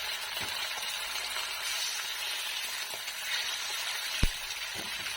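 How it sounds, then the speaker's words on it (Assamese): Chicken pieces fry in hot oil with a dense, steady sizzle and crackle held close, broken by a few faint knocks and one sharp clink of a utensil. "এতিয়া তেল গৰম হৈছে, এতিয়া লাহেকৈ জিনুৱে চিকেনখিনি ফ্ৰাই কৰি ল'বি।"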